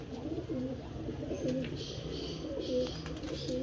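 Soft, low pigeon cooing repeats steadily through the stretch, with a faint background hum and no talking.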